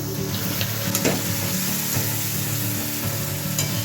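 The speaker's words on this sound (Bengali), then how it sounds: "কষানো চলছে।" Ground turmeric, chilli, Kashmiri chilli, coriander and cumin sautéed with a little water for oil-free mutton kasha, giving a dense steady sizzle with light stirring throughout, close and fairly loud.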